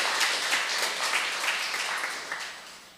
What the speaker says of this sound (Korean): 다시 한번 큰 박수로 격려를 했으면 좋겠습니다